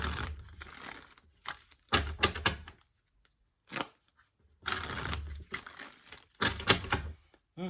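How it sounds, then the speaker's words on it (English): Tarot cards are shuffled in several quick riffling bursts separated by brief pauses, crisp and close. "That one felt good, that shuffle."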